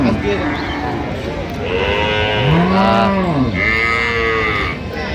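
A cow lows several times at a busy cattle market in Aftabganj, with long drawn-out moos rising and falling over a murmur of crowd noise.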